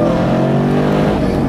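A 2016 Chevrolet Camaro SS convertible with a dual-mode exhaust revving hard and close, a loud continuous droning roar with rising pitch toward the end.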